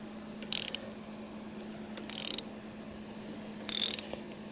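A Honda CL90 motorcycle engine turned over by hand with its cam chain moving, giving three short, separate bursts of dry mechanical ratcheting and clicking against a quiet background.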